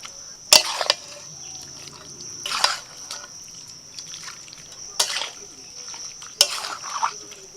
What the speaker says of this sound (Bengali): এবার দিয়ে দিচ্ছি ম্যারিনেট করা চিকেনটা, পেঁয়াজ বেরেস্তা, সব কিছু ভালো করে মিশিয়ে নেব